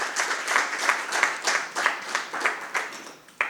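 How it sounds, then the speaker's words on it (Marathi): Audience at a felicitation ceremony during a Buddha Vandana gathering claps in a steady burst of applause for an honoree, many hands close and lively throughout. "एकदा आपण भरपूर टाळ्या वाजवून सरांचं परत अभिनंदन करूया."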